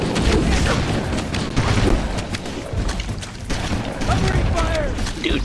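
Dense bursts of weapon fire and explosions in Halo: Combat Evolved's Flood campaign run continuously, loud and busy throughout, with voices partly mixed in among the shooting.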